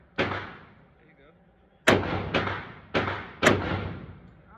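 Loud gunshots at an outdoor shooting range, four sharp blasts with a pause after the first, then three close together, each ringing out briefly.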